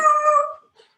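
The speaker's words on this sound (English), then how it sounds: "I'm sorry, that's my dog." A dog lets out a short, close howl that rises and holds briefly before breaking off, followed by near silence with a faint trailing whimper.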